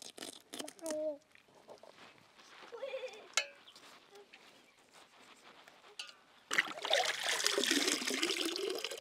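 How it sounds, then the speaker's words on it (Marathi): Murrel (snakehead) fish being rinsed clean in plentiful water outdoors, with a quieter stretch of voices and small knocks first, then a loud, steady rush of splashing, sloshing water close by for the last few seconds. "मासे मस्तपैकी आपण धुवून घेतले, स्वच्छ धुवून घेतले."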